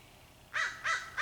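Crows give three short, harsh caws in quick succession, fairly close and clear over a faint background hum.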